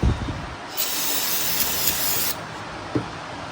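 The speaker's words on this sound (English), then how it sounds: "A little bit of brake cleaner in there." Brake cleaner sprays in a steady, loud hiss for nearly two seconds onto carbon deposits in an EGR part, with faint handling knocks before and after.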